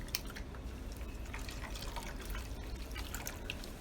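Water dumped into a tub trickles and drips after a wig wash, a soft steady patter of small drops and runoff heard close by with no talking.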